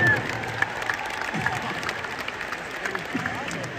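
An audience at a solo concert in a shopping mall claps steadily, a continuous patter of applause with a voice speaking over it.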